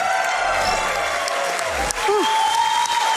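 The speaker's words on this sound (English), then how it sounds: "Everybody give him a huge round of applause." A speedrun marathon crowd claps steadily through a sustained round of applause, with a brief voice and a faint tonal sound cutting through partway.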